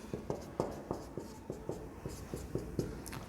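Chalk or marker strokes on a classroom board, a steady series of short, sharp scratching taps roughly every third of a second, close and clear with no talking.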